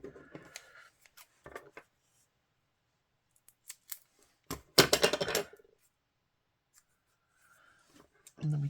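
Scissors snip through paper while trimming a small piece for a papercraft altered index card, with a few soft clicks early on and a brief close burst of cutting near the middle, then quiet handling.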